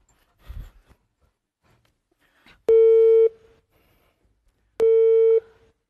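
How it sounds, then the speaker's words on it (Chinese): A telephone call tone plays over speakerphone as two loud, evenly spaced steady beeps with silence between them, after a brief faint rustle. "我现在打电话给王美丽，我开着免提行不行？"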